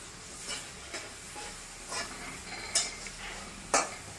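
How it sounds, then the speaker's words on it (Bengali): Onions fry in a pan for a sea fish curry, a low sizzle underneath while a utensil scrapes and stirs in a few sharp, irregular strokes. "এবার আমি পেঁয়াজটাকে একে একে ভালো করে ভেজে নেব।"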